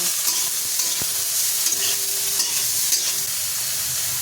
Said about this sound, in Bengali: উচ্ছে ভাজার সময় একটু লবণ দিয়ে দিলাম লবণ দিয়ে উচ্ছেটা ভেজে নেব